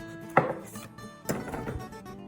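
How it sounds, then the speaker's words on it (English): A spatula prised around the edges of a cake in an unlined pan gives two sharp scraping knocks followed by a brief rasping slide, close and fairly quiet, with no voices. "I'm just taking a spatula and prising the ends."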